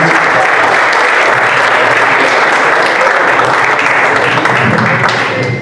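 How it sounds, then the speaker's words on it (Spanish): Sustained audience applause greets a speaker at a talk on the principles of the Church's social doctrine, a dense, loud, steady roar of many hands clapping that fills the whole stretch and tapers only slightly at the end. "Les pido un fuerte aplauso para Fernando."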